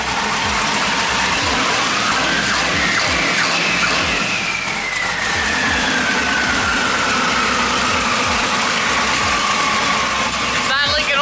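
A V8 LS engine swapped into a Foxbody Mustang idles steadily up close, its loud continuous rumble holding constant with a whining belt tone rising and falling above it throughout.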